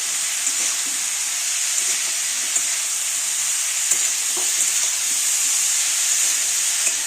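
Mushrooms frying in a pan with turmeric and salt, a steady bright sizzle with small pops and crackles throughout, close and alone without voices.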